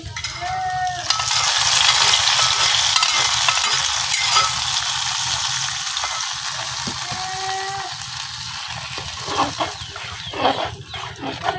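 Hot mustard-oil tempering of fried onion and garlic pours into a pot of khichuri, setting off a loud, steady broadband sizzle that holds for several seconds, followed by scraping stirs and a few sharp clinks toward the end; no voices.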